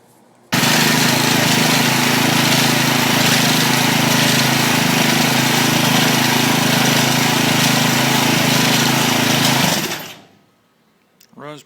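A Briggs and Stratton lawn mower engine with a Pulsa Prime carburetor starts and runs loud and steady at close range for about nine seconds, then cuts off abruptly into near silence.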